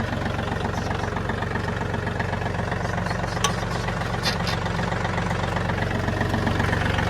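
A John Deere 3032E compact tractor engine idling nearby, a steady loud diesel rumble with an even knocking pulse and constant vibration, holding unchanged throughout with no voices.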